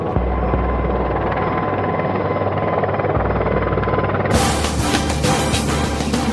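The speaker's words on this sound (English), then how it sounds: "Under such dramatic circumstances, helicopters and pilots showed their best." Helicopter flying, a steady loud rotor and turbine drone with continuous chopping throb throughout, sounding close and unbroken from start to finish.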